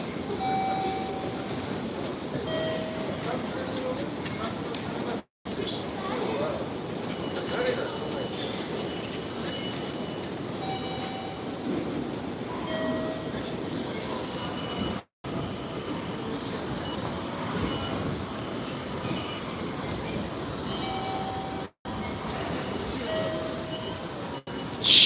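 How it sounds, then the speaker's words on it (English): A Ginza Line subway train pulls into Shibuya station with a steady rumbling, rolling roar and faint chimes above it, moderately loud and continuous, broken by a few brief dropouts. "Maybe we'll hear some of the jingles as the train comes in."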